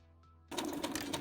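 A sewing machine stitches the cuff of a kimono, starting abruptly after a brief quiet moment and running as a rapid, close mechanical whir with rhythmic needle clatter, no speech.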